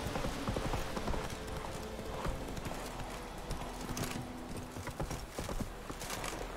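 Roach the horse in the game Witcher 3, hooves clip-clopping at a walk in a quiet rhythmic pattern beneath a soft game soundscape, no voices.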